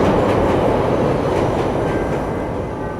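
A train running on rails, loud and close, with a dense rumbling roar and rhythmic rattling of the carriages that holds steady throughout and eases slightly at the end.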